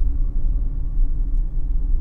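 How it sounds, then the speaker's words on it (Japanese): Steady, muffled low rumble of a car driving in a video game, heard as if from inside a dark car trunk, constant and even with no speech. "なんか微妙に車の走行音が聞こえてる気がするし。"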